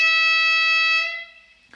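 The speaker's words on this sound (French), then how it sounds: "un klaxon aigu." High-pitched horn of a model SNCF BB 67417 diesel locomotive in miniature railway scale, a single steady electronic tone with bright stacked harmonics that holds for about a second, then fades away.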